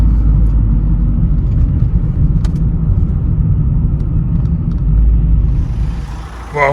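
A Vauxhall Meriva B car engine runs on a test drive, a steady loud low rumble of the engine and road noise with no voices, easing slightly near the end.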